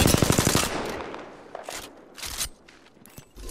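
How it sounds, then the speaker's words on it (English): Gunfire aimed at the player in a shooter video game: a rapid burst of automatic fire up front, then scattered single shots and impacts at varying distance. "I'm getting shot at"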